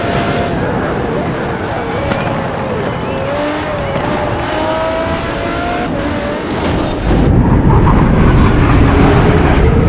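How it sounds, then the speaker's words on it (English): Jet engine roar in the racing video game Forza Horizon 4, a dense, continuous whine and rumble that holds steady and then swells louder for the final couple of seconds. "The way the jet engine is moving through my headset right now."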